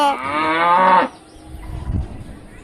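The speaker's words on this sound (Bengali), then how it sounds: "এরকম এখানে একটা গরু আছে," A single loud, close cow moo lasts about a second near a road, then fades into low background rumble and faint movement.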